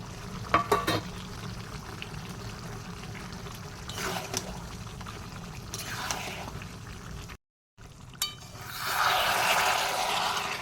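Onion paste frying in a pan and being stirred, a wet bubbling sizzle with scattered clicks and scrapes, a brief gap, then a louder, denser crackle toward the end.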